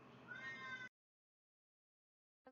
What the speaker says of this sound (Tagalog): kung naririnig nyo sa background yung pusa ko, ngiyaw ng ngiyaw.